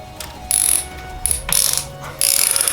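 Quick bursts of ratcheting clicks from a 5mm tool tightening a bar end adapter on a 2018 Aprilia Tuono Factory motorcycle, four short runs of close mechanical clicking separated by brief pauses.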